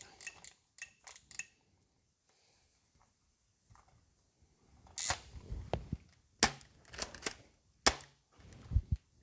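A toy blaster fires AccuStrike foam darts, producing sharp, close clicks and snaps in several scattered bursts, with quiet gaps between them and some handling rattle.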